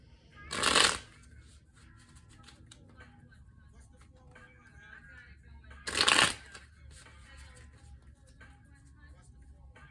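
A deck of tarot cards is riffle-shuffled twice, each a brief close burst of fluttering card snaps separated by several seconds of quiet room tone.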